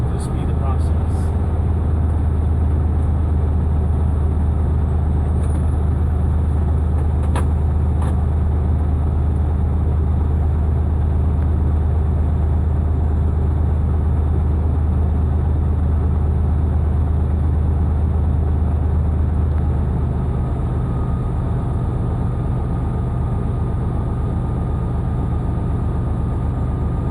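A truck engine is raised to 1,000 RPM to build air brake pressure, a loud steady low engine drone that eases down near the end, with a brief air hiss early on.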